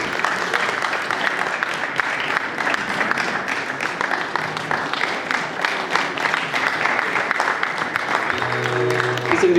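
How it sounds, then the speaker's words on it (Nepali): An audience at a formal event applauds steadily for several seconds, a dense wash of clapping with faint background voices and a brief tone near the end. "कृपया जोरदार तालीले उहाँलाई सम्मान व्यक्त गरिदिनु होला।"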